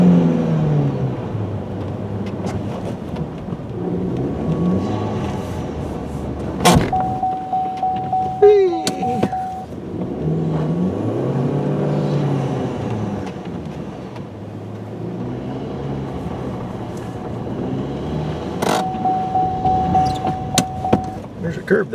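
A Chevrolet Cruze engine revs up and down in the snow with wheels spinning, rising and falling in repeated swells, while people talk and exclaim over it inside the car.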